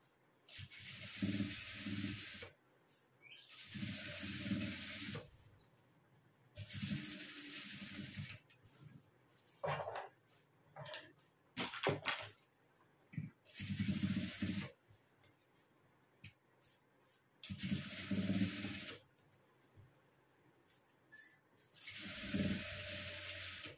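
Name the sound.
sewing stitches along the edges of fabric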